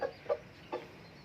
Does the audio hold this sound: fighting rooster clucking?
yes